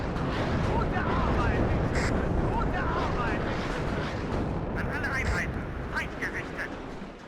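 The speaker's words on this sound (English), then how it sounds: "Always fun to watch mass artillery" Massed artillery in the WARNO war game pounds away in a continuous rumbling barrage of booms, loud and dense, while a voice talks over the shelling.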